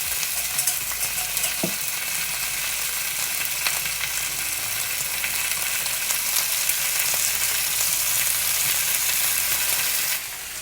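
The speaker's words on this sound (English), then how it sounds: "Saute the lotus root." Wet lotus root sauteing in a hot pan, a loud continuous hissing sizzle that holds steady for several seconds with an occasional faint clink, then drops off slightly at the end; no one speaks.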